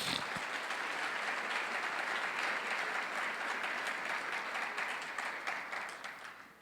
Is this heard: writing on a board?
no